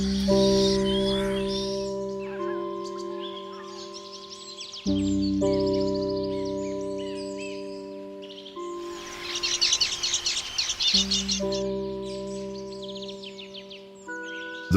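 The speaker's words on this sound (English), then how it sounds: "weaverbird is merely a small bird, never taught by anyone" A small weaverbird (manyar bird) chirps and twitters in quick bursts, sitting over steady sustained background tones that run throughout.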